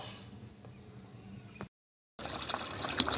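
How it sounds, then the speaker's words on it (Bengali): Water running into a bucket to fill it for repotting a lotus tuber, a steady close splashing stream that briefly stops, then resumes brighter and louder. "বালতি করে জল ভরে নিচ্ছি"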